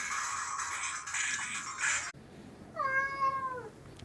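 A house cat gives a single clear meow indoors, close and fairly loud, after a stretch of steady electronic hum and bright noise.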